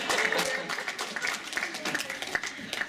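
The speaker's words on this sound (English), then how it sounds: "I'll tell the woman who asked that question that you all clapped" Audience at a science fiction and fantasy panel at the 2012 New York Comic Con gives a burst of scattered clapping, dense and continuous, mixed with voices in the room.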